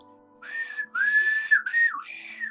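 A person whistles a sustained, wavering tune in several phrases, loud and close, with short pauses between notes.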